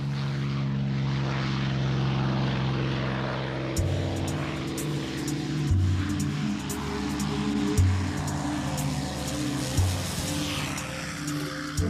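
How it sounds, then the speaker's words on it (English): A P-51 Mustang World War II fighter's piston engine growls steadily with a deep droning roar, propeller thrum rising and pulsing at regular intervals, loud and close throughout. "The P-51 Mustang."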